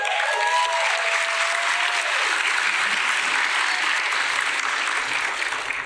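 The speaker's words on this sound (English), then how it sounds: "That's how you cheer somebody coming up to the stage." Loud, sustained applause and cheering from a crowd at a Student of the Year dinner as a student comes up to the stage, with whistles at the start and no break.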